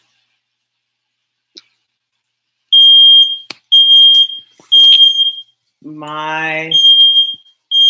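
A kitchen smoke alarm set off while frying shrimp sounds in sharp, loud high-pitched beeps repeated in short bursts, with a brief spoken word and another voice cutting in between them.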